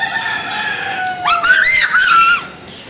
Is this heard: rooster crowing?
yes